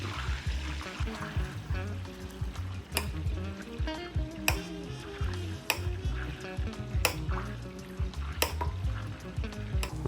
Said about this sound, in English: I'm at the halfway point and I'm just gonna flip my lobster tails over